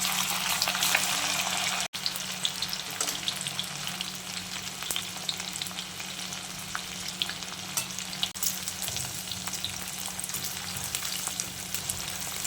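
Soya chunks frying in hot oil for soya chilli, a dense, continuous bubbling sizzle that stays loud and steady throughout after a brief break near the start, close by with no talking.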